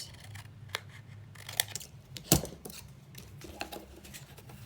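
Scissors cut paper for a tea tag pocket in a few quick, close snips spread across the clip, with one sharper cut near the middle, and no talk.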